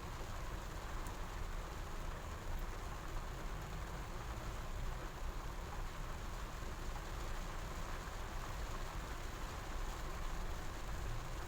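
Steady rain pours without a break, a dense, even hiss of falling water, close and constant throughout with no voices.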